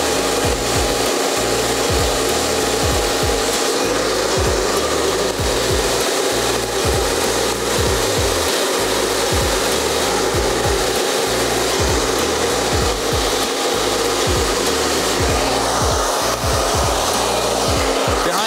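A hair dryer blows hot air onto hair during a men's skin fade haircut, with a comb turned sideways to add a light wave to the ends. The loud, continuous whooshing roar is punctuated by faint rhythmic comb scrapes.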